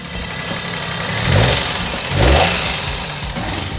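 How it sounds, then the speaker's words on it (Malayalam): A used car's engine idles steadily nearby, with two brief revs rising and falling. "ഇതിന്റെ എഞ്ചിന്റെ സൗണ്ട് ഒന്ന് നമുക്ക് ചെക്ക് ചെയ്യാൻ പോവാണ്."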